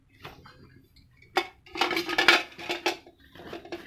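Kitchen utensils, a rolling pin, ladle, spatula, pressure cooker and wok, are packed into a travel bag, giving scattered metallic clinks and clatters in irregular bursts, close by and fairly quiet, with no voices.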